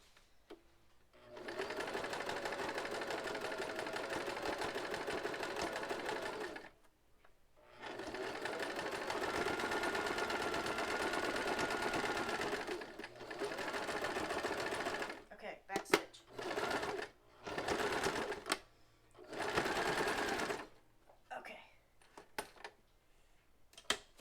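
A sewing machine stitches in long steady runs, then in shorter stop-start bursts, a close, buzzing mechanical hum with quiet gaps between runs.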